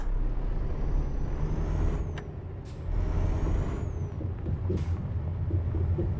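Heavy truck engine in Euro Truck Simulator 2 starting and idling as a low, steady rumble, with a couple of sharp hissing air bursts partway through, no talking.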